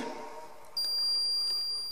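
A stud detector emits a sustained high-pitched electronic tone that starts partway through and holds steadily, signalling metal found in a wall.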